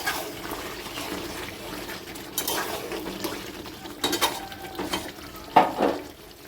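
Water splashes and pours into a pan of cooked chicken curry made with ground masala, with soft sloshing, a few metal scrapes and clinks, and a louder splash near the end, close up with no talking.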